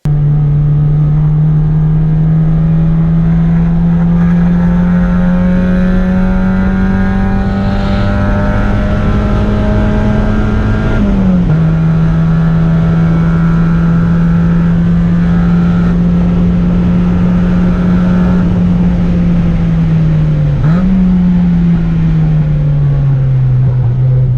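A 1990s NA Mazda Miata laps Portland International Raceway in hot weather, its engine droning loud and close at high revs with a steady pitch that dips briefly twice during shifts.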